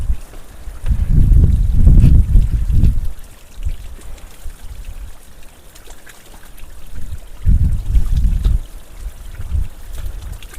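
Clean spring water runs in a stream at Riverston, Sri Lanka, a low gurgling flow that swells in two louder bursts with quieter trickling between them. No voices are heard.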